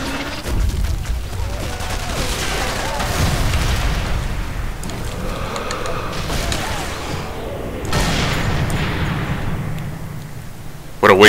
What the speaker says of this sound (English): With explosions and headshots.